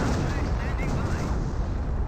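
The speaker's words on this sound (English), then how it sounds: "that must be a creeping barrage" Dense, continuous rumble of artillery shells landing in a creeping barrage during a Company of Heroes match, steady booming wash filling the whole moment with no pauses.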